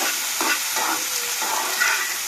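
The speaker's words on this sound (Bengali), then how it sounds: "ভালো করে ভেজে নেব বরবইটা প্রায় ভাজা হয়ে গেছে" Long beans (borboti) fry in a pan, giving a close, steady hissing sizzle with a few soft stirring scrapes and no talking.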